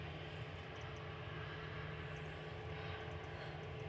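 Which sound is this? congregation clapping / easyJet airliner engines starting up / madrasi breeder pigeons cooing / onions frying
easyJet airliner engines starting up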